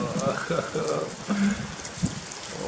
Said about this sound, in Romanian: Azi toată ziua să plouă.